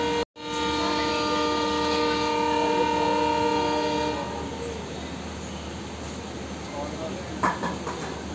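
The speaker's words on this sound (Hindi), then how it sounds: "अब यहाँ से ट्रेन चलेगी।" A train horn sounds loud and steady for about four seconds while a passenger train waits at the station about to depart, followed by a broad rumble of the station and carriage interior with a faint clank near the end.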